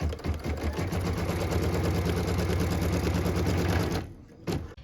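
An embroidery sewing machine stitches a cut line on a quilt block held in a hoop, a steady rapid mechanical chatter that runs loud and even for about four seconds, then cuts off abruptly, followed by a brief faint clunk.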